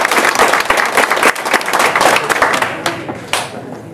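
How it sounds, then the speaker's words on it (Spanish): Applause at the inauguration ceremony of elected indigenous community authorities in Kwet Wala, a dense burst of crowd clapping that fades out toward the end, with no talk over it. "Un aplauso para..."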